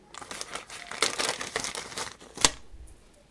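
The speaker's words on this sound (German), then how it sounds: "Jetzt packen wir mal eins in der Tüte hier aus." A plastic bag crinkles and rustles up close as ball chains are unpacked, with a continuous crackling that ends in a sharp crumple before fading to quiet.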